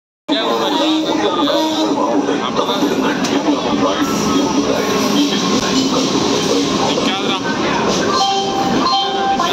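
An unreserved train on the Salem to Tirupati route rumbles loudly and continuously at a busy station, with dense crowd chatter and people talking close by throughout.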